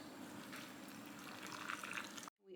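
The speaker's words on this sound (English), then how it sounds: "now we're going to add the boiling water" Boiling water being poured into glass canning jars, a steady liquid pour with light splashing and gurgling that stops abruptly near the end.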